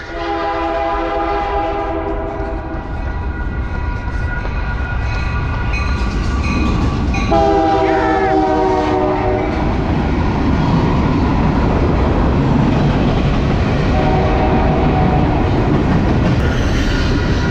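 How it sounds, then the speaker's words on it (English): A train rolls past loudly with a rushing, clattering roar, its horn sounding several times along the way. "And this is a train."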